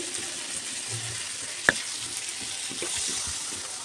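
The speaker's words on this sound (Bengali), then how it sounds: "এখন একদম কষা হয়েই গেছে এবার দিয়ে দেবো জল" Water poured into a pan of frying shrimp and okra curry gives a steady close sizzle and hiss, with one sharp clink partway through.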